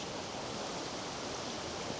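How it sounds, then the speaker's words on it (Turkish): Waterfall on a footpath below Tbilisi Fortress, heard as a steady, dense wash of rushing water that stays loud and unchanging throughout, with no voices over it. "İleride bir şelale var."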